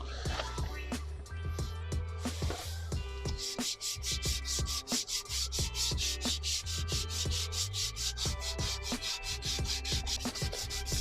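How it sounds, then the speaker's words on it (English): Steady rhythmic rubbing and scraping of sandpaper against a Range Rover's leather steering wheel, continuous and close, with quick repeated strokes throughout. "This feels really bad, sanding my steering wheel."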